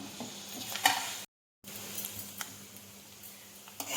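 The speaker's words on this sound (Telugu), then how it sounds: "పోపు అంతా ఎర్రగా వేగిపోయిందండి." Dried chilli, curry leaves and cumin sizzle in hot oil as a tempering for temple-style katte pongali. The crackling is close and steady, with a brief cut to silence partway through.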